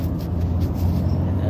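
Steady road traffic rumbling past a rural New Zealand roadside, a continuous low drone of passing cars with no break, loud and close throughout.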